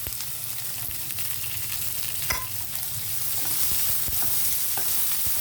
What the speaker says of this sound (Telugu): ఇవి కొంచెం వేగిన తర్వాత ఉల్లిపాయలు వేసేద్దామండి